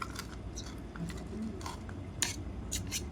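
Chicken pieces being mixed by hand with chicken masala and salt in a hostel kitchen, giving soft, irregular scraping and clinking of utensils against a dish, fairly quiet and close, with no talking.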